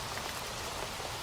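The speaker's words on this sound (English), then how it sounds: "listening to the rain hammering the roof and the slow dripping inside" Rain hammers a straw roof in a dense, steady patter of drops, with dripping inside, even and unbroken throughout.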